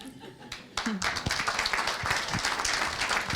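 Audience at a professional chapter dinner bursts into applause after a brief pause, sustained clapping with a little laughter mixed in, lasting to the end.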